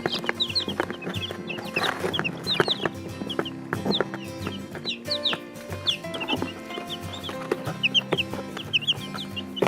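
Newly hatched baby chicks kept indoors peep and chirp continuously, a dense flock of high calls close by, with a steady busy texture throughout.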